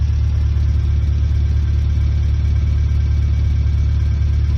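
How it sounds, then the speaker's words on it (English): A 2004 Honda Civic EX fitted with aftermarket headers and exhaust idles steadily, a loud, even low-pitched drone heard close with no talking. "Car is running, letting it idle right now."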